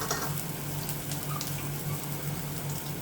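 Whole cumin seeds hit hot oil and sizzle with a steady, close crackling hiss that holds evenly throughout, with a low hum underneath and no voices.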